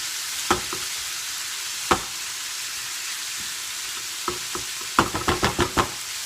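Smoked bacon browns in a pan with a steady, soft sizzle, broken by a few sharp scrapes and clicks of stirring that cluster in a quick run near the end.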